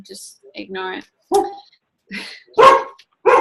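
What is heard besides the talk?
dog barking in the background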